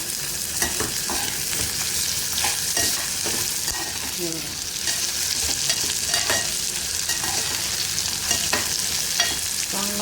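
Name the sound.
onions frying and being stirred in pan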